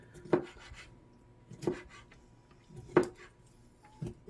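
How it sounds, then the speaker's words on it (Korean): A knife slices through squid on a cutting board in slow, evenly spaced cuts, about four soft thumps with faint scraping between them, close and quiet. "이런 방식으로 이제 오징어를 썰어 주시면 됩니다"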